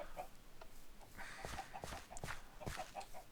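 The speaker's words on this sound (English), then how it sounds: "I ended up with hundreds and hundreds of chickens too from Benchy's prank" Many Minecraft chickens cluck together, a faint, busy chorus of short repeated clucks with no one talking.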